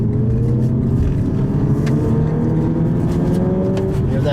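A 2019 Lexus UX 250h F Sport hybrid drones steadily with rising harmonic tones as it accelerates, partly artificial sound from the stereo, loud and close throughout, with no voices.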